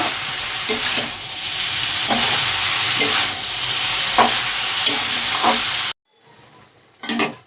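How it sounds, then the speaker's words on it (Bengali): Cabbage, pumpkin and potato frying in a pan, a loud steady sizzle with rhythmic spatula scrapes, then a sudden cut to near silence and a brief stirring clatter. "কুমড়ো আলুর সঙ্গে বাঁধাকপিটা একটু ভেজে নেব 5 মিনিট ধরে"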